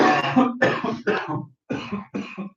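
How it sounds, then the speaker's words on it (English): Several harsh, close coughs in quick succession, loud and raspy, with short pauses between bursts. "Y'all hear us coughing in here?"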